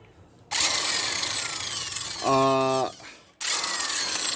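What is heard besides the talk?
electric impact driver removing Honda Activa variator nut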